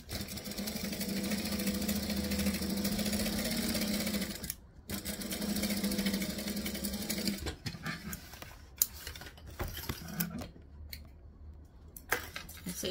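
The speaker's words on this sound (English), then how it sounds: "we're going to just sew the whole way up the edge." A sewing machine sewing up the edge of a travel bag, a steady close whirring run broken by a brief pause, then shorter bursts with clicks and handling noises.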